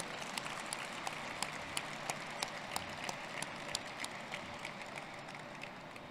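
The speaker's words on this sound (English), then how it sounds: "please join me in a round of applause for the Blue Eagles Honor Guard, for the singer of our national anthem" Sustained applause from a ceremony audience for an honor guard, a national anthem singer and an organizing committee, with dense steady clapping and sharp individual claps standing out throughout.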